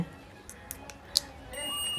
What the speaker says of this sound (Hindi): यहाँ पर बीप टोन बज रहा है